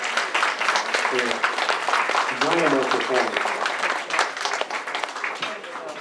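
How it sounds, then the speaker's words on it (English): A holiday choir concert audience applauds, a sustained, full round of clapping from many people with a voice speaking briefly over it. "Let's give them one more round of applause"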